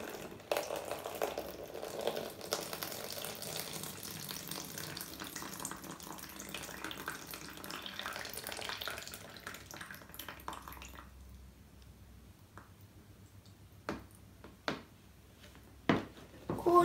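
Water pours into a container for about eleven seconds, a steady soft splashing stream, followed by quiet with a few sharp knocks and clatters.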